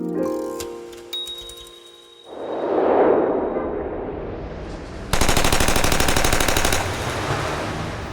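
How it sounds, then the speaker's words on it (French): Gunfire inside a Chicago warehouse as an audio-drama effect: a whooshing rumble swells, then a long, dense, loud string of rapid shots rattles for over a second, with no voices. "À la même heure, à Chicago, des détonations se font entendre dans l'entrepôt du 2122 North Clark Street"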